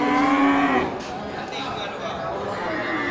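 Simmental cross cattle at a livestock market low in a long moo with a harmonic-rich, sustained call that fades after about a second, followed by steady crowd chatter and market bustle.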